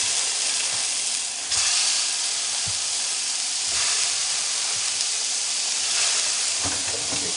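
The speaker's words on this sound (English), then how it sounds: "Alright, I'm going to throw my patties in there." Chicken burger patties sizzle on a hot tray in a Ninja Foodi dual heat air fry oven, a loud continuous crackling hiss with a few soft knocks and no talking.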